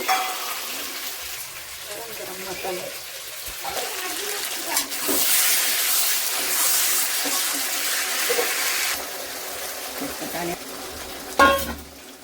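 Mutton sizzles and is stirred in a pan with turmeric and spices for an Odia-style curry, a steady hissing fry with scraping spoon strokes and a louder scrape near the end, under occasional talk.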